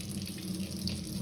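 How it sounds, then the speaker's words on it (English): Tap water runs in a steady, close splashing stream into a kitchen sink while a tomato is rinsed under it, with no talking. "Okay, so I'm just going to wash the tomato."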